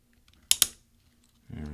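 A key on a mid-2010 13-inch MacBook Pro is pushed off its plastic scissor hinge, giving two sharp, close plastic clicks in quick succession, followed after a short pause by a voice starting to talk.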